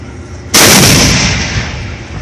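A Leopard C2 tank fires its main gun at a competition at CFB Gagetown, one sudden, very loud close blast that rolls off into a long fading rumble.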